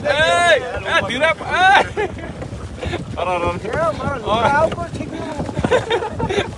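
A boat ride on the water at Saputara, with a steady wind rumble and engine or water wash running beneath continuous close conversation among several people.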